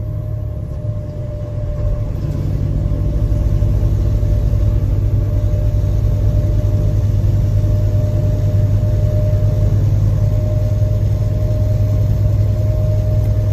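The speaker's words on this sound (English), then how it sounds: "Roy H., otherwise known as Container Man 68, as he drove his truck east through Echo Canyon" A truck drives east through Echo Canyon, giving a steady, loud low engine rumble that holds constant throughout with no talking.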